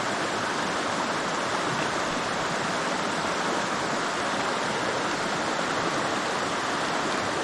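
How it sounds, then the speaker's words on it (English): A mountain creek in the Great Smoky Mountains rushes over rapids, a steady, dense broadband roar of water that holds constant and close throughout with no voices. "The flow of this creek right now is just absolutely perfect."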